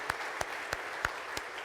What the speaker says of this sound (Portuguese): Dá um aplauso ao Senhor pela palavra dele